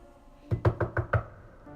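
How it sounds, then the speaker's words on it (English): Five firm, evenly spaced knocks land on a door, close and solid, with nothing else but a faint room hum around them. "a knock at the door"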